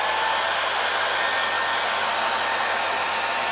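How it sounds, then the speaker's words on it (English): A hair dryer blasts hot air onto hair that has just been sprayed for volume, a loud, steady, close-up rush of air with a constant motor hum and no pauses. "just blast it with the hairdryer"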